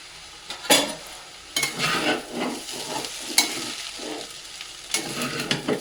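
Stir-frying a dish with fried egg and spring onion, spatula scraping and clattering against the pan in bursts over a steady sizzle, close and alone without voices.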